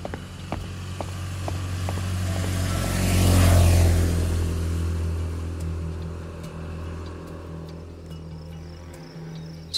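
Tricycle motor engine rising and passing close, then fading away as it drives off, heard alone at moderate level over a few faint clicks.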